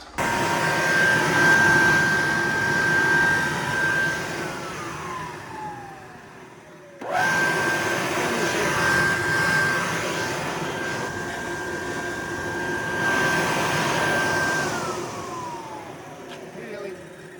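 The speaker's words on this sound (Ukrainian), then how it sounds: "Работає. Проветриватель." A grain aerator fan runs in a pile of damp wheat, giving a steady whirring hum with a faint whine. The fan cuts out partway through and then starts up again at the same level.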